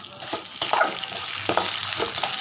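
Garlic and tamarind fry in a pan for a weight-loss chutney, producing a close, continuous crackling sizzle broken by a few stirring scrapes, with no voices.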